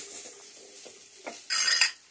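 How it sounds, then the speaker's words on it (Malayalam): Chopped chilli, ginger and garlic stirred in a pan for a Kerala jackfruit curry, with quiet scrapes and clinks of a utensil against metal, then a brief louder burst of sizzle and stirring near the end. "ഇത് നമുക്ക് മൂപ്പിക്കാം നല്ലതുപോലെ വഴട്ടി എടുക്കാം"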